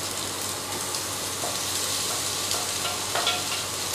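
Cooked mutton mince sautés in a tomato base, giving a dense, even hiss of frying with light stirring scrapes throughout, close and alone.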